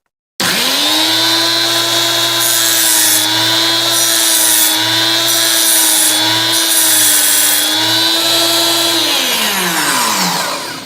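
A POSENPRO PGSS220 chainsaw chain sharpener starts up and grinds a chain tooth. A loud, steady motor whine with a rasping grind holds for about nine seconds, then spins down.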